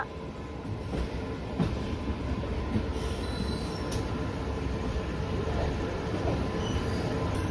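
A passenger train arriving at a station rumbles steadily past, wheels clattering on the rails with occasional metallic squeals, loud and continuous throughout.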